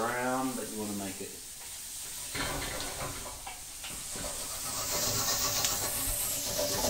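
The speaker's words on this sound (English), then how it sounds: "The trick is just to coat every grain with a bit of oil and a bit of butter" Risotto rice sizzling and hissing in oil and butter in a wok, a steady bright frying hiss with occasional stirring scrapes, continuing under a talking voice.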